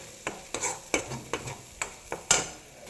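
Egg being sautéed in a pan before semiya goes in, with quiet frying under about seven distinct scraping strokes of a spoon against the pan at a steady, unhurried pace.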